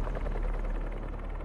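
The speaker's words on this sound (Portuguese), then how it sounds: "hélices de helicóptero" Helicopter rotor blades in the video game Marvel's Spider-Man 2 on PS5, a loud, close, continuous throbbing whir with a fast pulsing beat and a deep low-end rumble.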